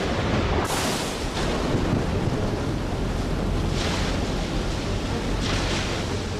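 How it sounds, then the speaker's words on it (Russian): Rough sea waves surge and crash in a cartoon storm scene while strong wind roars over the water, building in repeated washes of noise with no voices heard. "Меня волнует погода. Море неспокойно."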